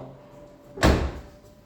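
A kitchen dishwasher door swings and closes with a single close, solid thump that fades over half a second, heard alone in a quiet room.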